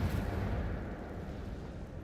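The Incendio fire spell in Hogwarts Legacy setting something alight, heard as a soft, low whooshing rumble that starts strongest and slowly fades over a couple of seconds, quiet and without speech.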